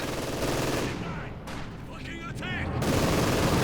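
A field gun firing on a Panzer IV in the strategy game Company of Heroes 2 sets off dense, continuous battle roar, easing briefly in the middle while a voice talks, then surging back loud.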